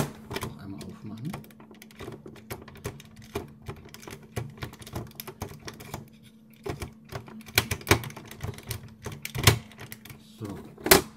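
A dot matrix printer running with continuous perforated paper gives a busy stream of rapid mechanical clicks and rattling bursts over a steady low hum, with irregular louder clacks throughout.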